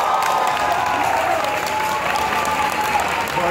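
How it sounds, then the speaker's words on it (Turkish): A concert crowd at a show at Jolly Joker Ankara applauds, a dense, loud, continuous wash of clapping with faint cheering mixed in, steady throughout. "kocaman bir alkış verir miyiz?"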